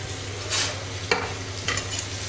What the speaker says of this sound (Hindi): अब इसको अच्छा ब्राउन होने तक हम भून लेते हैं।